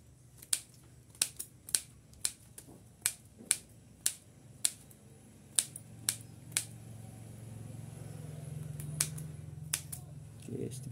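Sharp snipping clicks of pruning shears cutting bougainvillea stems for propagation, about a dozen crisp near cuts in an uneven rhythm over a soft low background hum that swells in the second half.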